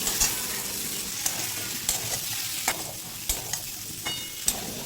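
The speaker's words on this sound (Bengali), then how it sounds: "তারপর দেখুন প্রায় দু তিন মিনিট ভেজে নিয়েছি" Raw papaya stir-fried in a pan sizzles steadily while a spoon scrapes and taps the pan at irregular intervals, close and moderately loud, with nobody speaking.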